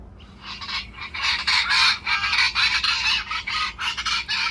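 Loud, harsh bird calls close by, a continuous burst of raucous squawks and honking cries in quick, overlapping pulses.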